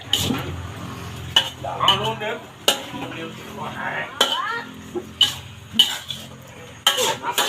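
Spicy eel stir-fried hot in a pan, with metal utensils scraping and clanking in sharp bursts every second or so over a low sizzle, while faint voices talk in the background.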